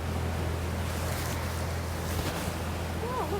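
A distant jet ski engine drones steadily across open water, mixed with wind and the wash of waves, with a faint whining rise near the end.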